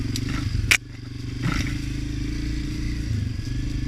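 A Honda CRF250F dirt bike crawls in first gear along a rocky trail: a steady, low engine drone, with one sharp clatter of rock or metal early on and a few light scrapes after it.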